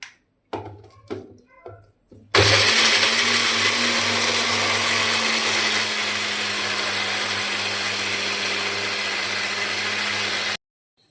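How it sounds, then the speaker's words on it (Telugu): A mixer grinder whirs loudly and steadily for several seconds, grinding a garam masala and fennel paste with water, after a few brief knocks and handling sounds at the start. "గరం మసాలా సోంపు ఇవన్నీ వేసుకుని మిక్సీ పట్టుకుందాం"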